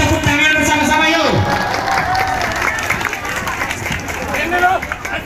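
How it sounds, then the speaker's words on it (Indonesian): A crowd at an Indonesian Independence Day school carnival claps and cheers amid outdoor bustle, while an amplified voice speaks over the noise throughout. "Berikan tepuk tangan bersama-sama yuk!"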